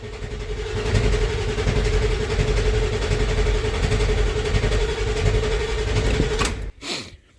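A 1994.5 Ford F-350 Powerstroke diesel engine, fitted with new injectors and intake, grinds steadily as it cranks for several seconds, loud and close, then cuts off abruptly with a brief final burst.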